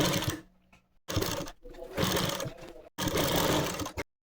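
Sewing machine running long basting stitches along a folded-in kameez neckline, three close bursts of steady mechanical whirring separated by brief silences.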